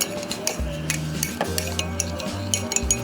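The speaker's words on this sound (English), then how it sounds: "I'm gonna mix that in." A spoon clinks repeatedly against a cup while honey is stirred into a few ounces of boiling-hot water, a rapid run of bright close metallic taps.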